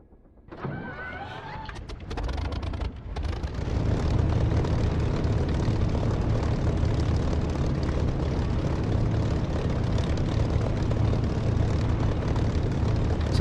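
Propeller aircraft engine in the DCS flight simulator cranks and catches, then settles into a loud, steady running drone that holds without pause; a brief whine and clicks come before the engine fires.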